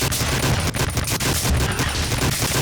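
Loud, dense blasts from the super shotgun in the video game DOOM fire in quick succession, packed with heavy booming impacts throughout.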